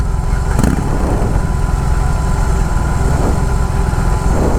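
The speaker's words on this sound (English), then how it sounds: "The whole bike shuddered when I started it." A BMW R18 motorcycle engine starting up and idling with a rough, continuous shuddering rumble, loud and close, with no talk.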